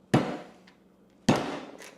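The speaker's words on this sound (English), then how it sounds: "a little tap with the hammer. Okay, maybe a little more than a tap with the hammer," Two sharp hammer taps on a Nelson Rain Train traveling sprinkler's wheel as it is driven onto its shaft on a workbench, each a loud close crack with a short ringing decay, spaced about a second apart.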